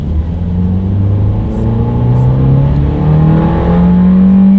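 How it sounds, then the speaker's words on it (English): A 2019 Ford Fiesta accelerates, its engine note rising steadily in pitch through the gears, loud and close from inside the cabin with no talking. "Now let's do a quick little acceleration, see how quickly we can get this go-kart-ish 2019 Fiesta here up to speed."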